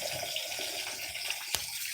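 Boiled water from an instant water boiler pours into a cooking pot, a steady close splashing stream with a sharp clink near the end.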